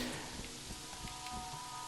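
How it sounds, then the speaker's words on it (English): Steady rain in Terraria, a dense even hiss of falling drops filling the whole stretch with no breaks or voices. "It's raining."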